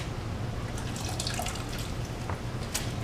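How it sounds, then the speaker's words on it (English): Water running and dripping while a Suzuki Boulevard C50 motorcycle, partway through a bobber build, is rinsed off, a steady close splashing with scattered drips and no talk. "Alright, now I'm going to rinse that off."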